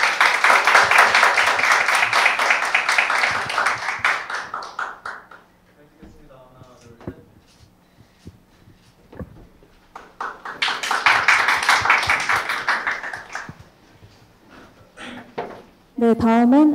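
A university startup competition audience applauds award winners in two loud, dense bursts separated by a quieter stretch. Speech and scattered taps sound in between.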